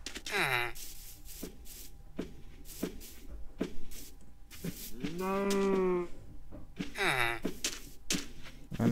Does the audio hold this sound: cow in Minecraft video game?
yes